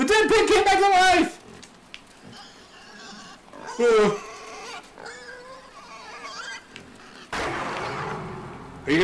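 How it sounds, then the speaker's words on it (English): A pig in the game INSIDE lets out loud, close squealing oinks in three separate bursts, with quieter game sounds and a person talking in the gaps. "The dead pig came back to life!"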